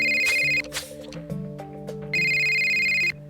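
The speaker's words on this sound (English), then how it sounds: "I almost don't want to answer the phone." Telephone ringing in the Criminal Case video game, a loud electronic bell in two long bursts with a short gap between, alone over a soft musical background.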